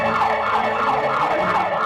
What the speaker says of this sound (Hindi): क्या वो साइरन है?